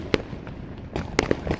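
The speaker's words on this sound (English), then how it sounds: "you're going to see even more fireworks going off" City-wide firework show for America's 250th: several sharp bursts and pops from fireworks going off at a distance, scattered irregularly over a faint background hum.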